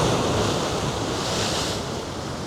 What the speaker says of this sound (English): There is some waves coming right now.